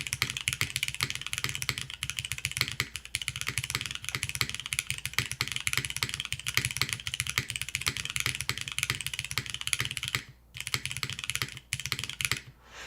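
Rapid, steady typing on a mechanical keyboard, with crisp clacky keystrokes filling the clip and a brief pause near the end.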